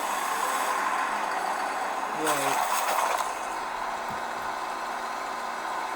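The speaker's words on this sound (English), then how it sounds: "This has a very loud engine for a room." A loud engine rumbles and idles inside a room in the video game Portal 2, steady and low under a brief mechanical hiss and clank, with a short spoken word.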